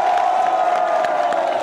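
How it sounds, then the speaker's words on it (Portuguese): Outdoor crowd at a political march in Pemba, Cabo Delgado, Mozambique, cheering and clapping loudly; a continuous roar of voices with scattered whoops and claps close by. "uma grande salva de palmas para Cabo"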